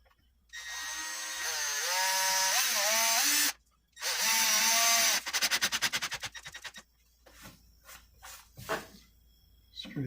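A power drill drives a drywall anchor into a wall: a loud whine ramping up and down, a short pause, another run, then slowing clicks and sparse knocks near the end.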